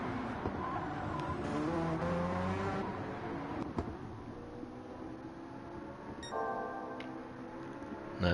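GTR race cars at the Nürburgring 24 Hours race, with engines droning steadily under a continuous motor hum and a brief higher whine late on, heard from a moderate distance.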